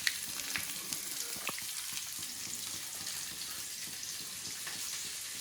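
Ginger garlic paste fries in a pan while gobi is being cooked, giving a steady, close hiss of sizzling oil throughout. A few faint clicks and stirring sounds come through, and nobody speaks.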